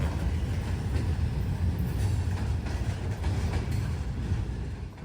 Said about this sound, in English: Okay, so here is the other train.